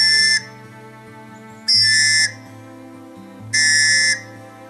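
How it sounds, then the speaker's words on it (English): Three long, sharp whistle blasts ring out at even intervals, each shrill and piercing for about half a second, with quieter tonal background between them. "3 long drawn, sharp whistle blasts are very good methods for ground crews that are looking for you"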